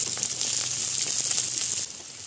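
Dried red chillies, five-spice seeds and chopped onion sizzle in hot oil in a heated kadai, a bright steady frying hiss that drops suddenly near the end.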